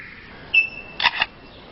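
A lyrebird mimics a camera shutter: a thin whistled note followed by a couple of sharp, crisp mechanical clicks close up, alone against quiet forest background.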